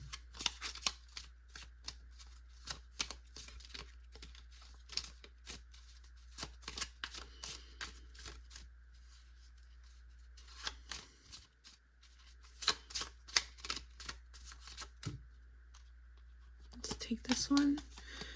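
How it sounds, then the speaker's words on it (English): Oracle cards being shuffled by hand, a run of soft papery riffles and taps, close and fairly quiet, with a low steady hum underneath and a brief burst of handling near the end. "Let's go ahead and get your oracle cards now to dive a little bit deeper"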